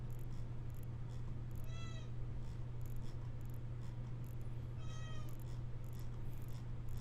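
A cat gives two clear, rising meows a few seconds apart. They sound moderately close over a constant low electrical hum and hiss.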